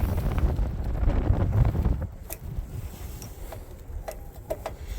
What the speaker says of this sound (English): if this wind would die down,